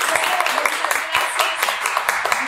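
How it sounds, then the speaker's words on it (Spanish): Applause from an audience at a talk event on sisterhood, a dense patter of many hands clapping at moderate level throughout, with faint voices mixed underneath. "Un aplauso para ellos."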